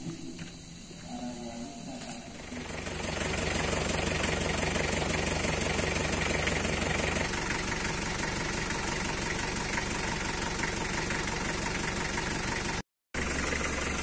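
A motocross motorcycle engine idles steadily and loudly up close, with a rough, knocking rhythm that continues for over ten seconds after a brief quieter start.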